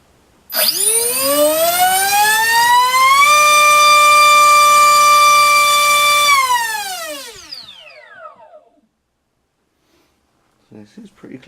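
Electric RC motor on a Turnigy 2200 mAh 40C pack spinning a propeller on a thrust test stand, loud whine ramping up, holding steady, then spinning down to silence, with a brief voice near the end.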